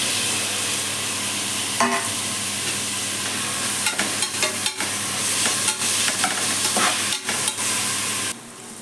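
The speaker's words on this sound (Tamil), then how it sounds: "எண்ணெய் ஊற்றி தக்காளி வெங்காயம் போட்டு வதக்கிட்டு" Onions and tomatoes sauté in oil in a pan for peas pulao, a steady, loud, close sizzle broken by occasional stirring scrapes before it drops off at the end.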